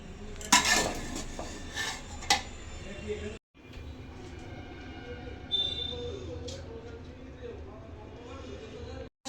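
Fried rice being mixed in a pan with fried cashews and raisins, a spatula scraping and clattering against the metal in a few sharp strikes early on, then softer stirring noise at close range.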